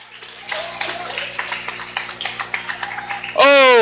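A church congregation at a revival gathering claps in a quick, steady rhythm under a preacher's voice, ending with a loud burst of amplified sound.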